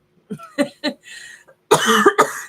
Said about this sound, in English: I just cough a little